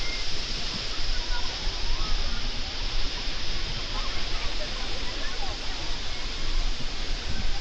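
Taytay Falls in Majayjay, Laguna pours with a loud, steady, broadband roar of falling water that holds constant throughout, close and enveloping.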